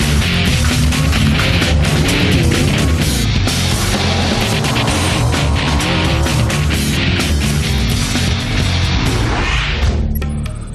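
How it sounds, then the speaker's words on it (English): A Ford F-150 EcoBoost truck racing in the Baja 1000 roars loudly and continuously across the finish line in La Paz, a dense, steady engine and road din with clattering impacts. "Ecoboost engine 44-8AA roars into La Paz and across the finish line."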